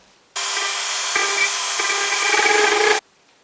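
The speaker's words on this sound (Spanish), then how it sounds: "Bueno, pues taladramos." Power drill boring into wood: one loud, continuous whirring grind lasting under three seconds, with small shifts in pitch as the bit bites, starting and stopping abruptly, close up and alone.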